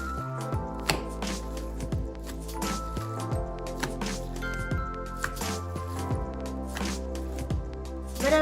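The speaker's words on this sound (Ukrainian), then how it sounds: "Відбийте фарш, бо він має бути в'язким." Minced meat being beaten by hand in a kitchen so it turns sticky, giving repeated wet squishing slaps at an uneven rhythm, close and fairly quiet, with no talking.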